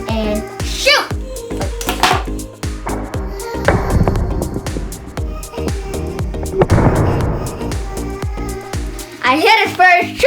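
A homemade popsicle stick rubber band gun fires at targets, giving sharp snapping clicks among close, excited talk.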